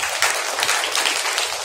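Audience at a kids' event clapping together on the count of three, a dense burst of steady applause from a crowd filling the room.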